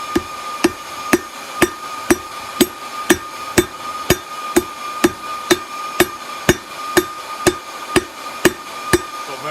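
Hand hammer striking a hot Damascus steel billet on an anvil, about twenty evenly spaced ringing metallic blows in a steady rhythm, loud and close with no talk.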